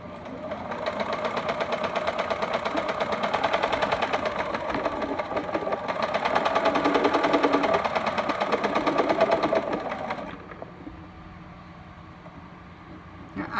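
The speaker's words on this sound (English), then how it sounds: "I'm going to load this bobbin" A sewing machine runs steadily while winding yellow thread onto a bobbin, a close, even mechanical whir with a fast rhythmic clatter that lasts about ten seconds and then stops, leaving a quiet hum.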